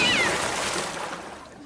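A cat meow sound effect played on cue during a panel game, a short bright call at the start over a loud, broad wash of noise that fades away.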